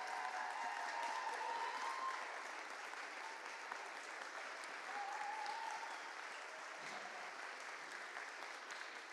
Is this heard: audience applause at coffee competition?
yes